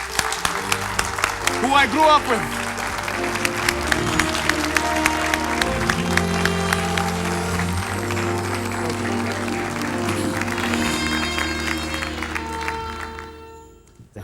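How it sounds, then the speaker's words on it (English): Studio audience applauds a guest on a televised HIV and AIDS discussion show, steady clapping sustained under music and a speaking voice before fading at the end. "Let's give a round of applause to our guest today"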